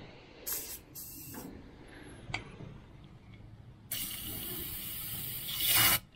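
Short hissing bursts of spray from an aerosol can aimed into an engine cylinder through a spark plug hole, faint and close, with a longer steady spray near the end and small mechanical clicks between.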